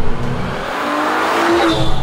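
An Aston Martin DBS Superleggera driven hard in Germany, its engine note climbing under acceleration, loud and close, with a rising tone and a brief tyre-like squeal partway through.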